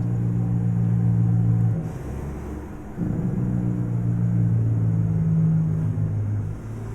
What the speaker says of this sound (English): that Jake brake sounds like shit